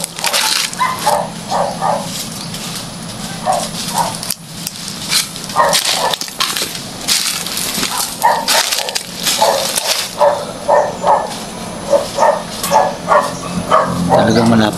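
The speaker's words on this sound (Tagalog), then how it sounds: "Kasi ang dami ng aso." Several dogs bark in repeated bursts on the outskirts of a town, loud and fairly near, with rough outdoor noise beneath and some barks overlapping.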